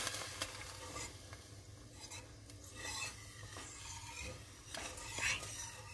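A spoon scrapes and stirs tomato sauce with salt simmering in a pan, giving soft repeated clinks and a low steady sizzle throughout, with no talking.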